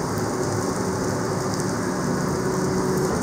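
A Caribbean rainstorm in the Bahamas gives a steady, dense hiss of rain beating on surfaces, loud and unbroken, with a faint low rumble beneath and no voices.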